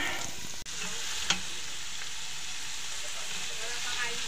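Steady sizzling of beef frying in a pan for Filipino pinapaitan as papaitan bile is poured in, with a brief clatter and scrape of stirring partway through; constant and close.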